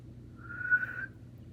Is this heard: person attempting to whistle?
yes